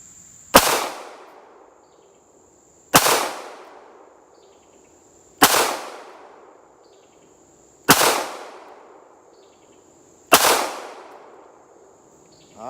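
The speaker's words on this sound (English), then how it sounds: "we're gonna take 5 shots" Five Glock pistol shots fired at a target from a few feet away, each a sharp loud crack with a decaying tail, evenly spaced about two and a half seconds apart, with no talking.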